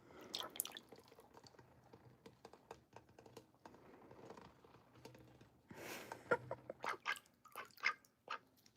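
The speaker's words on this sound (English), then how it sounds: "She's blowing bubbles." A child blows bubbles through a straw into a glass of lemonade, making soft, irregular wet bubbling and slurping gurgles in bursts, close by and fairly quiet, with no talking.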